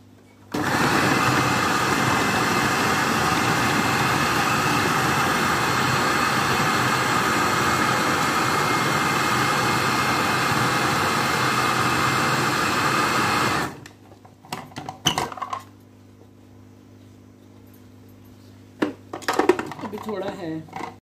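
An electric chopper whirs loudly and steadily for about thirteen seconds while chopping onion, garlic, ginger and two green chillies, then cuts off, leaving faint kitchen clatter and a few soft knocks.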